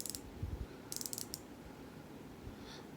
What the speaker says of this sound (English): the ratchet mechanism on it is just not the greatest. It actually hangs up.